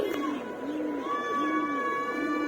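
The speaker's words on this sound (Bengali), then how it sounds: "বাচ্চা বাচ্চা নরগুলো ডাকতেছে" Young male pigeons coo at a sky pigeon loft, giving soft, close, repeated throaty calls in a steady rolling rhythm under light background hum.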